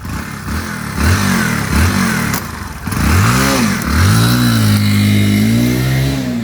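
A Kawasaki NS 160 motorcycle, repaired after a faulty washer damaged several parts, is revved up close in short repeated blips that give way to a longer sustained rising and holding rev.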